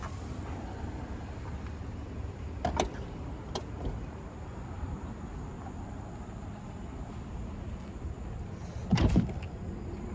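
A single solid thump of a 2020 Tesla Model X Long Range trunk lid shutting near the end, after a few lighter clicks and rattles, over a steady low background rumble.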